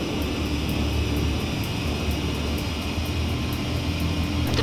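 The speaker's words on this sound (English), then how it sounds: "The transport plane is ready for an emergency landing." A transport plane drones steadily during an emergency landing in the video game Ace Combat 5, its engine a continuous loud roar with faint regular ticking.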